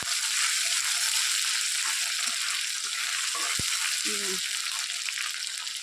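Chili and garlic frying in oil, a continuous hissing sizzle with a few soft clicks of stirring and faint background noise.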